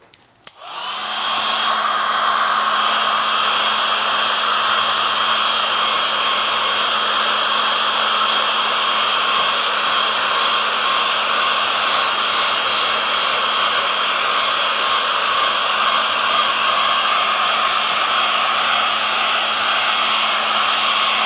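A hair dryer switches on and runs steadily at full, loud, close power for about twenty seconds, blowing over a freshly applied rubber coating, with a constant whine and airy rush and no talk.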